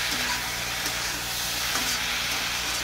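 A pan of masala, with a pinch of sugar added, is stir-fried, giving a steady, close, even sizzle with faint scraping throughout and no talking.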